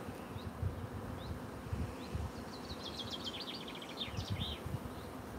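Honey bees swarm over spare pollen frames in a hive, their soft, continuous buzzing close by and quiet, with faint higher chirps above it.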